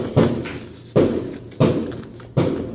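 Distant Fourth of July fireworks, four dull booms arriving at roughly even intervals, each thud fading slowly into quiet room tone with no voices over them.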